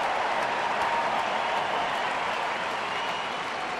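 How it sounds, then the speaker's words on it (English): Steady broadband crowd applause fills a baseball stadium for outfielder Peter Bourjos during a Texas at Anaheim game, sustained and even throughout without a break. "Peter gets the deserved round of applause"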